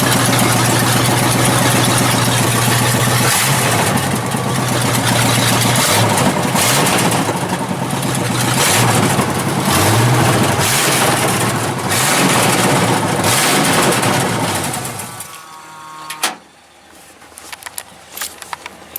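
A prerunner truck engine idles loud and close with a rough, throbbing rumble and a few revs, running steadily for about fifteen seconds before cutting off, leaving a short quiet with faint rustles.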